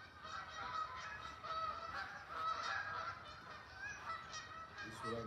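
Continuous honking from a group of geese, layered calls rising and falling at a steady level, heard without any voices.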